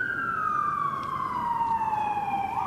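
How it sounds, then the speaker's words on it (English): A passing emergency siren sweeps steadily downward in pitch, loud and continuous over steady street noise, as the vehicle goes by during a Monterey Park mass shooting briefing. "the siren's going by"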